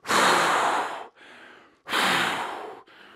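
Deep breathing during a bodyweight workout cooldown: two long, loud inhalations, each followed by a softer, breathy exhalation, close up and with no talking.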